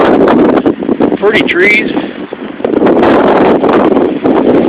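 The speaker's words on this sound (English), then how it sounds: "listen to the wind" Wind gusts strongly through trees in an old cemetery in Goshen, Ohio, rustling loudly and buffeting the microphone; a person exclaims briefly partway through.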